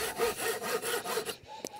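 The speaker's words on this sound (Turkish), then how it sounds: "Başladım Rico'yla kesmeye. Uzun bir testere olduğu için ileri geri hareketlerim daha performanslı oluyor." A long Rico hand saw cuts through wood in steady back-and-forth strokes, about six rhythmic rasping passes close up, then stops, leaving a short quiet tail with a faint knock.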